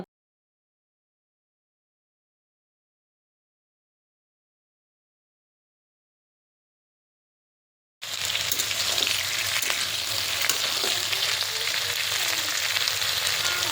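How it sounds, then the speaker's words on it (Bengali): Potato and brinjal fry in a pan: after a long silence, a dense, even crackling sizzle starts suddenly and continues at a steady level to the end. "আলু বেগুন আরটা ভালো করে হালকা করে ভেজে নেবো, লাল লাল করে ভেজে নিয়ে তারপরে মশলা দেবো"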